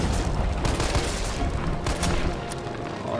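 Dense, continuous gunfire from the Resident Evil 3 Remake video game, a loud steady barrage of rapid overlapping shots filling the whole stretch with no talk over it.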